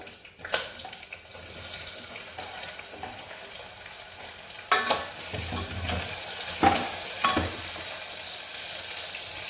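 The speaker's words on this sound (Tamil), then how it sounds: "எப்பயுமே போடுற கறி மசாலா போட்டுட்டு வெங்காயத்தை போட்டு" Onions stir-fry in oil with cardamom, fennel and curry masala, a moderate sizzle broken by scattered clinks and scrapes of a spoon against the pan, with a few sharper knocks near the middle.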